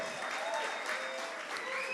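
A church congregation claps in celebration during a worship service, with steady dense applause from many hands filling the room at moderate level and no pauses.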